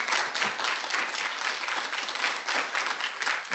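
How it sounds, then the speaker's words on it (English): Steady applause from an industry-day audience for the presenters, a dense, even clatter of many hands clapping throughout with no pauses. "I would like to ask for a round of applause for all of the presenters."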